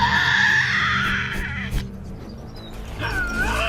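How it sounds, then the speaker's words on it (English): Tasmanian devil screams ring out in a wild island forest: loud, harsh, rasping shrieks at first that fade into quieter rustling, then another rising, piercing cry near the end. "A female Tasmanian devil hones in on the unmistakable sound of her own kind."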